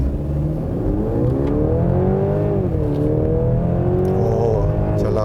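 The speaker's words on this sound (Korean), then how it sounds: "스포츠 모드에다 두고 급가속을 한번 해보도록 하겠습니다" A Mercedes-Benz GLC 300 4MATIC mild hybrid accelerates hard in sport mode, its loud engine note climbing and dipping through the gears in one continuous sustained roar, with no talking.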